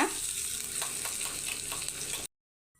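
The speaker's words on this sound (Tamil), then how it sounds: "அரை வெங்காயம் போதும் கொஞ்சம் நல்லா கோ கோல்டன் ப்ரௌனாக வறுத்துக்கோங்க" Half an onion frying in hot oil until golden brown, a steady close sizzle with light stirring scrapes that cuts off abruptly near the end.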